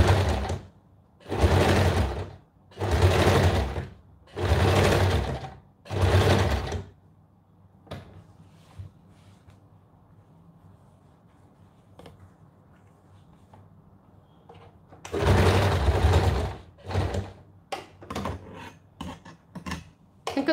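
A sewing machine stitching thick old cloth at a slow pace runs in five short, loud bursts, goes quiet with faint handling noises, then whirs again in another burst followed by a few quick stitches.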